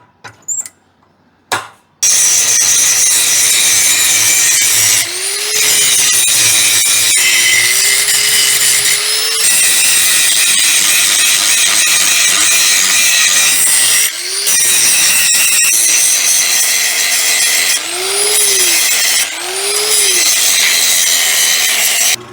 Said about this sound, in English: I've got to grind them smooth